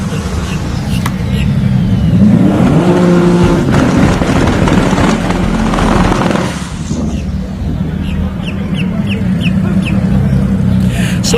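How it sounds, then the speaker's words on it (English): A pair of Nissan GTR cars roll backward after their burnouts at a drag strip, a loud, continuous engine rumble and drone with crowd and track noise around it. "So a pair of GTRs backing up after their burnouts."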